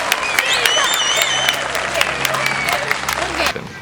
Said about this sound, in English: Please, round of applause for Liana.